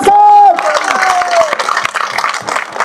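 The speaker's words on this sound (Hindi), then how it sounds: "एक बार जोरदार तालियों के साथ" Crowd applause and cheering at a pension rally at Jantar Mantar in Delhi, rising after a loud amplified voice fades, with scattered clapping and crowd noise filling the rest.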